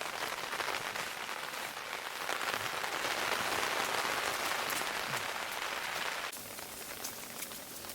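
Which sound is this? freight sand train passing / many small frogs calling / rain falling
rain falling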